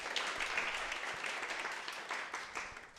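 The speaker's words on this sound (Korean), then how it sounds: "마지막 박수 한 번만 더 부탁드릴게요." Audience at a fire-academy exam results seminar applauding two teachers, a dense steady patter of many hands clapping at moderate distance, continuous throughout with no voices.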